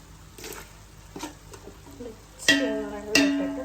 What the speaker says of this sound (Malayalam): രണ്ട് മിനിറ്റ് ഇളക്കി വെക്കാം